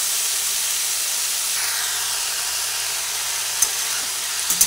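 Ivy gourd (kundri) frying in a pan over a medium gas flame, a steady soft hiss of oil with a few faint scraping clicks from stirring near the end, no voices.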